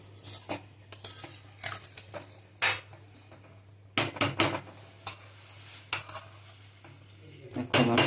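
Metal pot lid and utensils clattering on a pot of chicken curry, several sharp close clanks and knocks in irregular bursts over a low steady hum.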